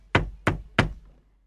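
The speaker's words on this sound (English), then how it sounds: "There was a knock at the door," Three sharp knocks at a door in quick, even succession, close and distinct, followed by quiet.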